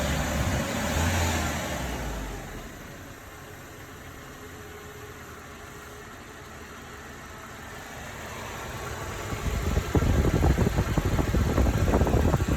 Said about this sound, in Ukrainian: Двигун на холостих працює тихенько, не трусить